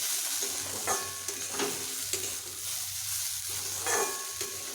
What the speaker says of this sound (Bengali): এবার আমি সবগুলোকে এইভাবে মিশিয়ে আরও একটু ভেজে নেব